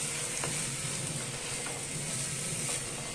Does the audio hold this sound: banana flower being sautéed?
yes